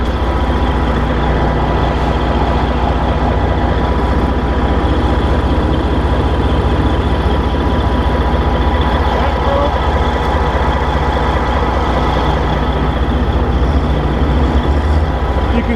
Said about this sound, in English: it's actually blowing chips back this way, all over here.